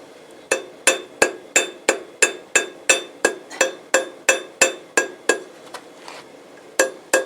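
Hammer blows ring out on a small spoon worked cold on a light anvil during simple blacksmithing, about fifteen evenly spaced sharp metallic strikes with bright ringing overtones, close and loud, then a short pause and two more hits.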